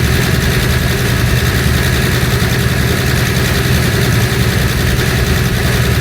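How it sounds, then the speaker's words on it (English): A loud 1974 Dodge truck engine idles steadily nearby while warming up, a constant low rumble with an even mechanical throb that never changes pace. "Sorry for the noise in the background, but that old Dodge is still warming up."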